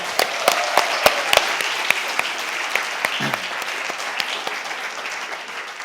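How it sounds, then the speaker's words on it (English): Audience applause for a graduating class of 2021 at a closing event, a steady wash of many hands clapping with sharp individual claps standing out, sustained throughout. "give a big round of applause to the best class ever, the class of 2021"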